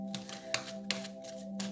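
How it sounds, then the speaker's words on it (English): A tarot deck is shuffled in short riffled bursts, four or five crisp rattling flurries spaced roughly evenly, close and fairly quiet over a steady background hum. "This deck does not want to shuffle right now."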